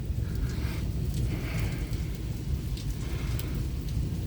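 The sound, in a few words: thunderstorm with rain and thunder in Michigan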